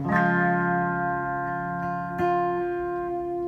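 An electric guitar chord strummed and left to ring with a slightly effected tone, then struck again and sustaining as it slowly fades.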